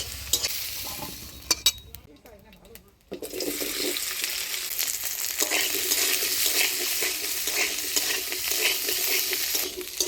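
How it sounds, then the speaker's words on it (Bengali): Potatoes fry in a kadai alongside soybean chunks, making a loud, bubbling sizzle that swells after a brief quiet gap. Sharp scrapes and clinks of stirring come early, and a running tap sounds in the background. "এবারে এই কড়াইয়ে আলুটা আমি ভেজে নেব।"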